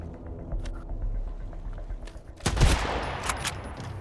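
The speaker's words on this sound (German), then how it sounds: "Schüsse, jemand schießt auf mich." Rapid bursts of gunfire crackle in a dense volley, loud and close, over a low steady background rumble, in the video game Sunkenland.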